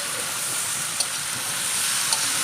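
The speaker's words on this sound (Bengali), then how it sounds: "এবার এগুলোকে খুব সুন্দর করে এদিক ওদিক করে আমি ভালো করে নাড়িয়ে নিচ্ছি" Potatoes, cauliflower and prawns sizzle loudly and steadily in a spiced pan for a Bengali fish curry, with an occasional faint clink of the stirring spoon and no voices.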